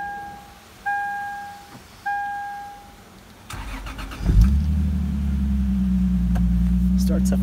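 A 2002 Lexus IS300 with a five-speed manual starts up: two chimes first, then the starter cranks briefly and the engine catches with a rev and settles into a steady, close idle.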